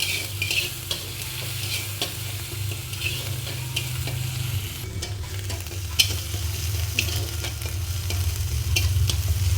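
Onion paste stirred as it fries in hot oil in a pan, a steady close sizzle running throughout with scraping spatula strokes over it, and no talking.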